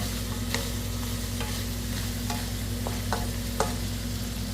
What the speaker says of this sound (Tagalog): So halu-haluin lang natin.